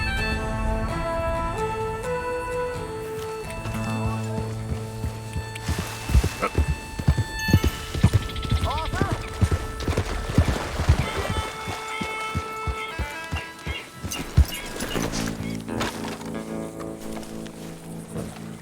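Rhythmic hoofbeats clip-clop along under orchestral music in the video game Red Dead Redemption 2, growing busier in the middle as a horse runs, with no talking.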